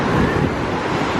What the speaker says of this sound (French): parce qu'il y a du vent et des vagues